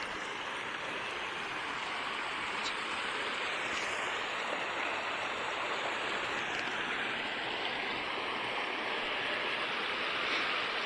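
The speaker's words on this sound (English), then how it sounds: "Maybe we can get some nice pictures of the waterfall down here." A waterfall and stream on a woodland nature hike give a constant loud rushing roar of water, with faint high bird calls above it and no talk.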